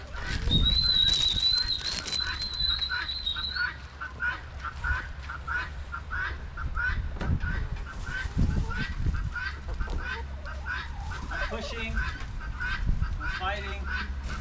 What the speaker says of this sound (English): I hate this sound. The guinea fowls.